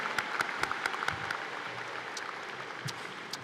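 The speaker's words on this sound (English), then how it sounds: "Please give our choir another round of applause" Graduation ceremony crowd applauding the high school choir and band in a large hall, a steady distant wash of clapping with a few sharper claps and faint voices scattered through.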